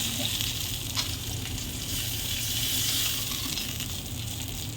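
Tilapia fish fries in hot oil, giving a loud, steady sizzle with crackling hiss that continues without pause for the whole stretch, close up.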